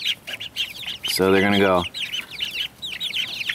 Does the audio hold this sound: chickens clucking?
yes